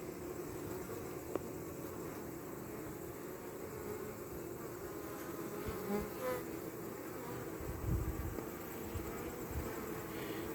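Honey bees buzz steadily at a hive entrance while fanning to cool the hive, a dense, continuous drone close by that holds at an even level throughout.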